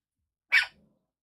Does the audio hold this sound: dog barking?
yes